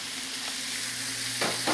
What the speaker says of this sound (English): we can start adding our vegetables. And some onions.